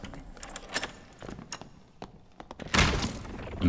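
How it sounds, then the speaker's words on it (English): Combat in the dungeon game Dark and Darker as a crossbow shot strikes a warlock: scattered sharp thunks and clattering hits, then a louder, harsher impact burst near the end, close and with no talk. "In with a crossbow shot."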